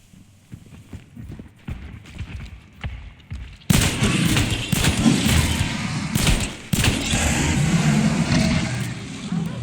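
Gunfire in Hunt Showdown: quieter ambient clatter first, then a loud burst of sharp, rapid shots, several cracks in quick succession with heavy reverberant tails close by.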